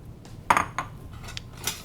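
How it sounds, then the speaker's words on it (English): A soup bowl and ladle clink and knock as they are picked up and handled in a kitchen, a few short, bright ceramic and metal taps spread over two seconds, close and fairly quiet. "Let me grab my bowl"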